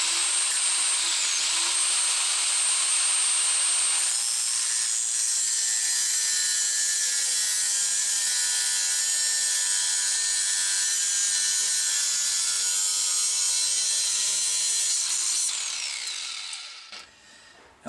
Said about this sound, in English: I just use a cordless one. It sits up here with a cutoff wheel in it.